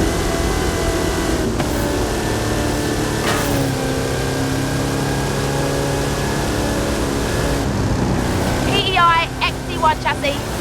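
A 540 cubic inch Chevrolet engine in an XT1-chassis Hot Wheels car on 66-inch Terra tyres hums steadily in Forza Horizon 5, a continuous droning tone that rises into brief revving surges near the end.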